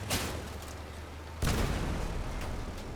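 Heavy cannon fire in the Crossout vehicle combat game: one deep, loud boom lands midway through, rising out of a steady rumbling game background with faint earlier thuds.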